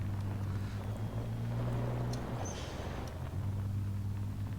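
Diesel truck engine idling and running in the driving game Automation, a steady low drone with harmonic hum that dips briefly midway then resumes, close and continuous.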